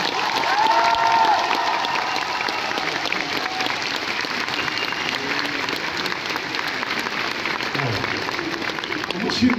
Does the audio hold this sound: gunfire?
no